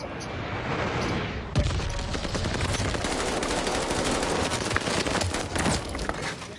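Rapid automatic gunfire in the Call of Duty Vanguard video game, a sustained dense burst of shots starting abruptly after a quieter moment and continuing loud and close.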